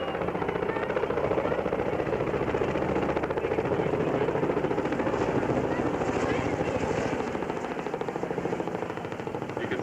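A CH-113 Labrador search and rescue helicopter of 442 Squadron flies during an air show demo, its dense, steady rotor and engine roar filling the whole stretch loudly and continuously, with voices talking over it.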